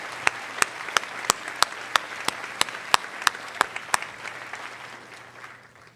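Applause for award sponsors at a high school senior awards ceremony, one crisp nearby clapper beating a steady, even rhythm over softer crowd clapping that tapers off toward the end.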